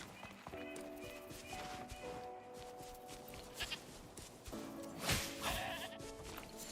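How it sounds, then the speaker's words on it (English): In the video game Wuthering Waves, a goat gives two drawn-out, wavering bleats, one early and one later, over quiet game ambience and faint background sounds. "Sorry, Mr. Goat"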